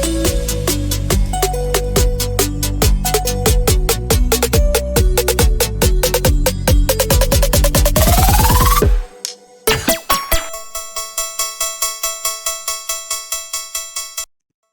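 A future bass build made in Ableton: dense stacked synth chords rise in a sweeping pitch climb, cut to a deep sub drop and impact, then stuttering rhythmic chord hits pulse loudly with no talking.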